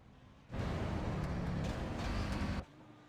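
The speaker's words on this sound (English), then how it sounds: "He will take GTE category, and Mazzomo will be the final car across the line." An IMSA sportscar in iRacing at Monza crosses the finish line, its engine a sudden broad roar that holds steady for about two seconds and then cuts off sharply.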